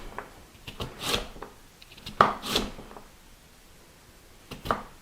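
A chef's knife slices vegetables crosswise on a cutting board, a few separate crisp chops spaced out in an otherwise quiet kitchen.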